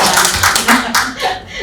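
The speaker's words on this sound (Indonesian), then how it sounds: "Tepuk tangan dulu untuk Bapak Kepala Sekolah." Audience applause at a vocational school assessment event in Maumere, clapping for the school principal, a brief loud burst of hands close by with voices mixed in.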